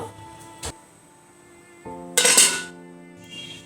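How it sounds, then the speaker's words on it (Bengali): A metal lid is set back onto a cooking pot on the stove, giving a sharp clank followed by a ringing clatter and then a short settling rattle, close up with no one speaking. "মাছটা দেওয়ার পর আবার ঢাকনা দিয়ে ঢেকে দেব"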